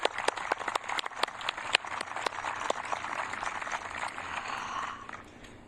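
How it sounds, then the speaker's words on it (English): Applause from the audience at the Westford annual town meeting, a dense wash of many hands clapping with sharp individual claps standing out, steady for several seconds before tapering off at the end. "I'd ask you all to give them a hand of applause"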